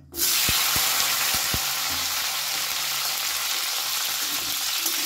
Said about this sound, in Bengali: ওই তেলের মধ্যে আমি দিয়ে দিলাম ডুমো করে রাখা ক্যাপসিকাম।